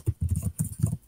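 Quick typing on a computer keyboard, a short run of close, crisp key taps in an uneven rhythm lasting about a second, with no other sound.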